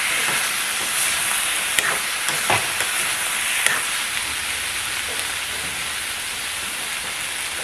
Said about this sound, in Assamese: এতিয়া ঢাকনিখন ঢাকি হাই ফ্লেমত 5 মিনিট সিজাই ল'ম।